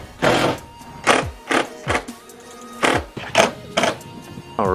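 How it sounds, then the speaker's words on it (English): Screws are tightened on a custom wing for a 2017 Subaru Forester XT with a power driver, giving a series of short whirring bursts with pauses between, close and fairly loud. "Now we're gonna go ahead and tighten them all up."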